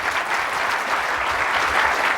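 Steady applause from a crowd of spectators at a women's pool tournament quarterfinal in East Peoria, a dense, even wash of clapping that holds at full strength without letup for its whole length.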